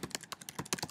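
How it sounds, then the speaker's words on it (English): Quick bursts of computer keyboard typing entered as a search term, about ten crisp keystrokes in under a second, close and fairly quiet with no voice. "And we can go back and then type in baseball."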